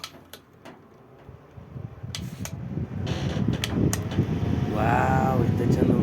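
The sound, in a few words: black electric fan running and blowing air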